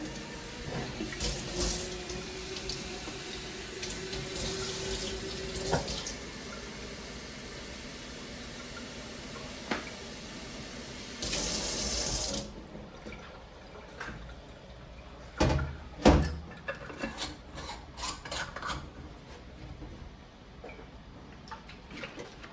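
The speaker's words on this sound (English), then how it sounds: "I'll just top it off with water and let it sit again overnight." Water is poured into a container of washed madder lake pigment, settled with sodium carbonate. A steady rushing hiss runs about twelve seconds and ends in a brief louder gush, followed by quiet small clicks and drips.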